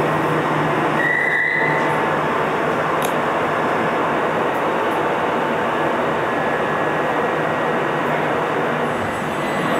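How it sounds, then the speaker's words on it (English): A Class 375 electric multiple unit pulls away from a station platform on the Sheerness line, a loud continuous rumble and whine of motors and wheels that holds steady and close throughout. "As the 375 unit departs to Sittingbourne, we continue our trek down this side of the platform"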